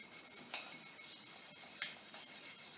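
Metal polished by hand with lapping compound and WD-40 in a machine shop: a soft, continuous rubbing and scrubbing with two brief sharper scrapes, close and fairly quiet, no speech.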